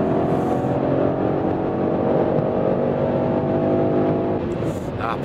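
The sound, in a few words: V8 coupe accelerating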